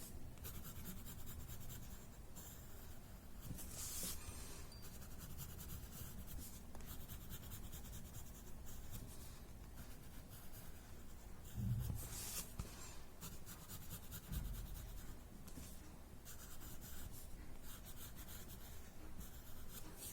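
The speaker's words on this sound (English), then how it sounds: "This is the gray watercolor pencil that I am using." A gray watercolor pencil scratches steadily across paper while shading the edges of a square in a tangle drawing, giving a continuous close rubbing rasp with brief pauses and no speech.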